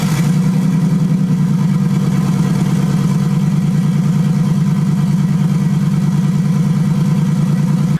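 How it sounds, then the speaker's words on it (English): Nissan RB20DET straight-six idling steadily as it warms up, a loud, close, even engine drone with a fast pulsing rhythm throughout and no talking. "So now I'm gonna start the car, let it warm up, let the oil thin out."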